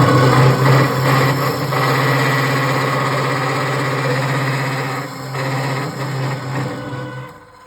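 A CPO 350 PKPD cold saw runs with a loud, steady motor whine and blade hum as it cuts a metal part, holding a constant tone before spinning down and fading at the end.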